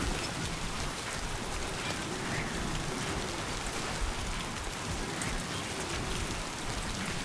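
Rain falls steadily on a beach, a constant dense hiss of drops pattering on surfaces, fairly faint and even throughout with no voices.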